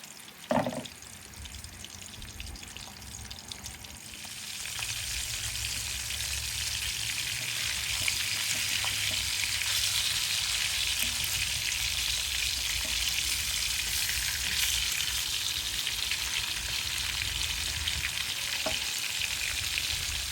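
Koi fish, climbing perch, fry in hot oil in an outdoor deck kitchen, a steady close crackling sizzle that swells after a few seconds and holds, with a sharp clatter at the start.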